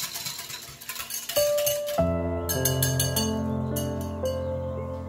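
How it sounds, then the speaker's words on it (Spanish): A spoon clinks against a glass as instant coffee is stirred into milk, a run of bright, rapid ringing taps close up that keep sounding through the whole stretch with no talk. "le añadimos el café soluble al vaso de leche y removemos para que quede bien disuelto"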